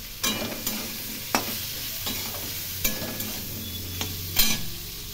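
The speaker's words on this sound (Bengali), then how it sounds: "আলু গাজর একটু ভেজে নিয়ে অন্যান্য সবজিগুলো দিয়ে দেব। এর মধ্যে একটু ধনে গুঁড়ো দিয়ে দিলাম।" Potatoes and carrots frying in a pan with other vegetables and coriander powder, a soft steady sizzle broken by several sharp spatula scrapes and taps, no talk.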